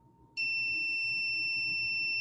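A bicycle car-detector alarm buzzer switches on suddenly and holds a loud, continuous shrill tone until the end, with low room noise underneath.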